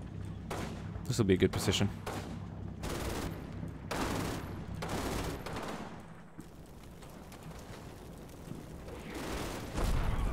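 Gunfire and explosions in Combat Mission: Final Blitzkrieg, a World War II tactical game with Sherman tanks and German infantry. Shots and blasts crack out in irregular bursts over a distant rumble, while someone talks.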